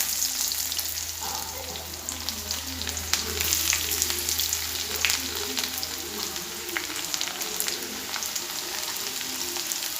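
Chopped shallots crackle and sizzle in hot oil for a Kerala curry of drumstick leaves and jackfruit seeds, a steady close hiss with light stirring and a brief low hum early on.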